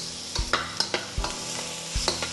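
Chopped onion fries in oil in a pan for curry potatoes, a low sizzle broken by half a dozen sharp, close spatula scrapes at an uneven rhythm.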